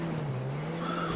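Elegy Retro Custom in GTA 5 with a sustained, fairly quiet tire squeal that slides in pitch over a low engine hum, one continuous skid without speech.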